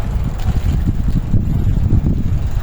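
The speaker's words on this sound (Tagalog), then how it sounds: "ayun lakas ang hangin" Strong, cold wind in Japan buffets the microphone in a continuous low roar, gusting steadily throughout with no voices.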